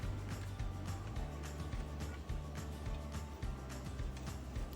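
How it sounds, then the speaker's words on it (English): Dishwasher running in a home kitchen, a steady low rumbling wash with continuous churning water noise and faint rhythmic thumps, heard faintly in the background with no talking. "I'm sorry for the dishwasher noise in the background."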